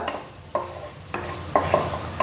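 Turmeric and chili powder sautéed in a pan, a spoon scraping and stirring in several distinct strokes over a soft steady sizzle.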